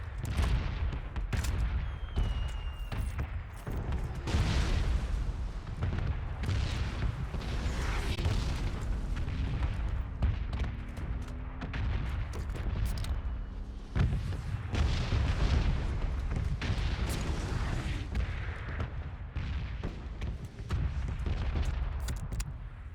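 Booming blasts and crackling gunfire-like bursts recur throughout, PUBG game explosions including an Aston Martin blowing up, of varying loudness over a steady rumbling background.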